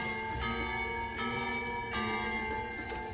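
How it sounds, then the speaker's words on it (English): A bell tolls softly in the video game Remnant: From the Ashes, with three or four resonant strikes at an even pace, each ringing on under the next. "Why was there a bell ringing?"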